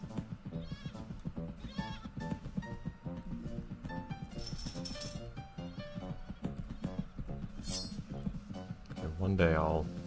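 Sheep bleat repeatedly in the video game Hanna in a Choppa 2, wavering cries scattered over a busy game soundtrack with a louder bleat near the end, while someone talks over it.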